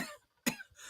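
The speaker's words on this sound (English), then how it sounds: "Every now and then I just start coughing and can't stop." A single sharp cough, close and fairly quiet, with near silence around it.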